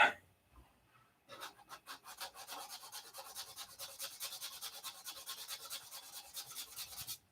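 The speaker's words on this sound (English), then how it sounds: "And then I have to sand all the primer off." Sandpaper rubbed over a model airplane to take off primer: after a brief quiet start, a close, steady rasping scrub in quick rhythmic back-and-forth strokes continues to the end, no talking.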